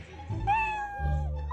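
A cat gives one drawn-out, wavering meow, fairly close and clear over a low background hum.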